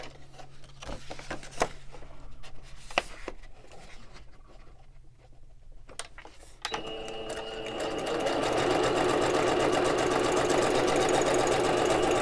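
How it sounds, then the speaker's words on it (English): A sewing machine stitches along a paper edge. Quiet handling taps and shuffles come first, then the motor starts and builds into a steady, close, loud whir that runs to the end. "my sewing machine speed go too fast because then it'll kind of get away from me"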